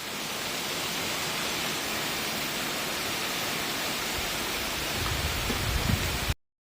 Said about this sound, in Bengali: এখনো দেখো এত স্পিড বৃষ্টি করছে